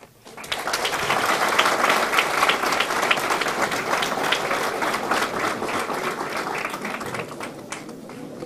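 An audience at a Model UN event breaks into sustained applause, dense clapping from many hands starting abruptly and holding steady for several seconds before easing slightly.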